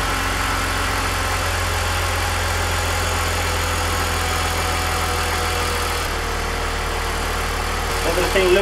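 A car engine idles steadily with a constant low hum and rumble, close by, running throughout with no speech, after a water pump, thermostat and radiator replacement and coolant bleeding.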